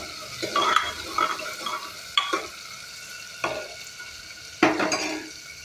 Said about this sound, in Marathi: कांदा लालसर होईपर्यंत परतायचा आहे.